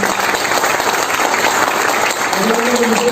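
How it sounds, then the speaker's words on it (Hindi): Steady audience applause at a motivational seminar, loud continuous clapping from a crowd, with a faint voice or tone surfacing near the end. "मैं उनके लिए एक बार जबरदस्त ताली चाहता हूँ"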